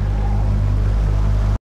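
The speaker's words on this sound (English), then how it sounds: "New engine, ticking away nicely." New boat engine idling steadily as the boat leaves Sunderland Marina for sea fishing, a loud, even low throb running continuously before cutting off abruptly.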